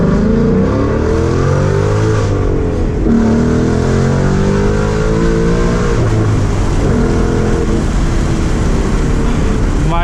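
Tuned 2019 Ford Mustang GT V8 with an aftermarket intake accelerating hard under a long pull, a loud, continuous engine roar that climbs steadily in pitch with brief dips at shifts, heard from inside the car.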